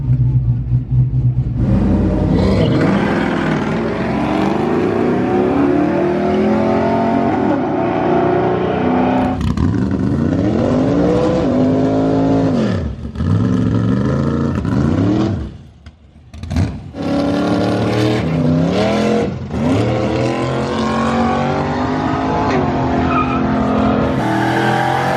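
A single-cab white pickup truck launches hard on nitrous, its engine roaring loud and close with rising revs, tire squeal and rumble, briefly dipping before surging again.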